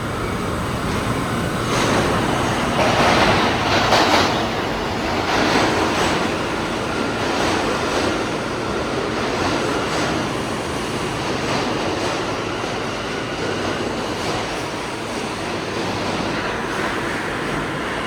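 A New York subway express train runs through Canal Street Station with a long, loud rumble and roar of wheels on track. The sound is steady and close, swelling slightly early on, with no talking.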